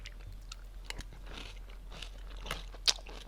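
Close, quiet crunching and chewing of cereal, irregular bites and mouth sounds over a faint background hum, with one sharper crunch near the end.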